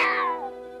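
A cartoon cat gives one short, falling meow, loud and close, with no talk over it.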